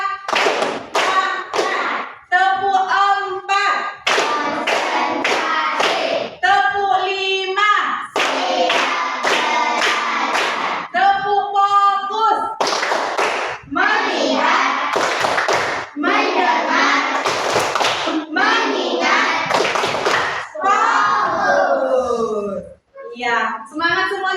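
Children in a classroom clap hands in a rhythmic counting routine, sharp sets of claps alternating with chanted voices, loud and close throughout.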